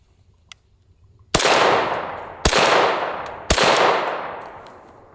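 Three loud, sharp Kriss Vector .45 ACP gunshots fired outdoors in an uneven sequence, each a sudden crack followed by a long fading echo, close to the listener.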